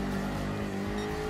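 A Group 3 race car engine in Gran Turismo Sport drones loud and steady at high revs, a continuous buzzing roar held under full throttle with no pause.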